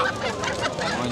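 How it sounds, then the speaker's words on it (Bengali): A rooster clucks at the ancient Shibrampur village market in Munshiganj, Bangladesh, giving a short, close burst of throaty clucks against the faint background of the market. "এই যে মোরগ, এটা কি মোরগ না মুরগি?"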